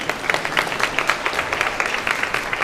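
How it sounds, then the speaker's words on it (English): An audience gives a steady round of applause at a horseman's event with Purina sponsors, dense clapping sustained throughout at moderate loudness with no talk over it. "One more round of applause for them"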